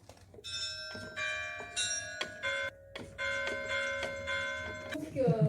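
Bright carillon bells ring out in a steady melodic sequence, several pitches struck one after another with a lingering resonance, played fairly close and clear.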